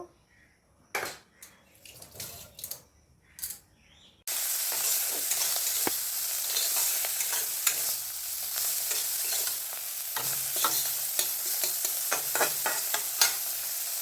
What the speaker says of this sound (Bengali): তো এখন আমি এই যে চিংড়ি মাছের মাথাগুলো ভেজে নিব